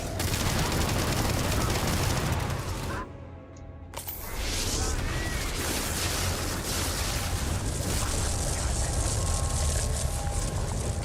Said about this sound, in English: I switched weapons. This one has explosive rounds.